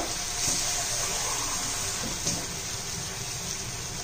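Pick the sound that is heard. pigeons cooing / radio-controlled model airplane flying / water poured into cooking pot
water poured into cooking pot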